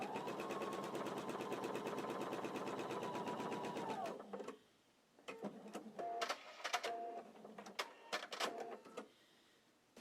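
Sewing machine chain piecing quilt seams: a steady, fast rhythmic stitching run for about four seconds, then short separate bursts of stitching and fabric handling, close and clear with no talk.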